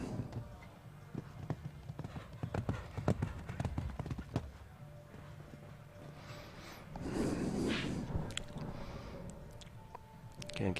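Horse hooves during a 1.45m speed stake show jumping round at a CSI5* event: a string of distinct clip-clop hoof strikes on the arena footing, fairly distant, with a broader rush of movement and crowd noise later.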